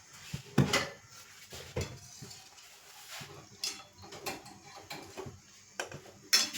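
Food being stirred in a metal cooking pot with a utensil, making irregular clinks and scrapes against the sides, close and fairly quiet, with no talk.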